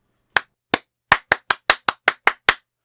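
A single pair of hands claps out a rhythm to a song, about ten sharp, close, dry claps in an uneven pattern with silence between them.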